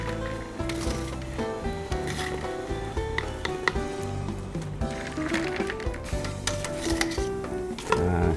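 Boiled stingray pieces are stirred in ice water in a pot, giving repeated clinks, scrapes and sloshing knocks of utensil against metal in an uneven rhythm at close range, with no talk.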